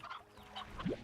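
Chickens in the video game Slime Rancher cluck in short, scattered bursts, ending with a sharper rising squawk, quiet and close with no talking.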